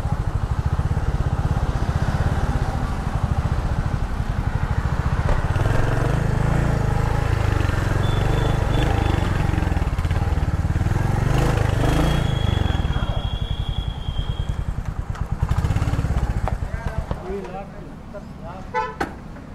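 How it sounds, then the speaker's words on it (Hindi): A Royal Enfield Hunter 350 motorcycle engine runs with a loud, close, steady low thump. The rumble holds evenly before fading at the end, and a brief horn toot and a voice come through over it. "तो भाई ये रही हंटर 350, इसकी मैंने टेस्ट राइड कर ली"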